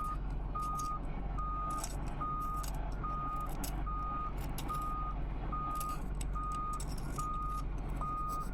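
A truck's reversing alarm beeps in an even, repeating rhythm, about ten tones over a steady low engine rumble, with scattered knocks and clatter nearby.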